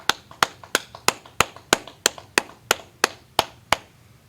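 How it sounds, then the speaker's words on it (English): A dozen sharp, evenly spaced claps ring out alone in a steady rhythm, close and crisp, each with a short room decay, as an audience claps in unison at a religious class gathering in Houston. "clap it up"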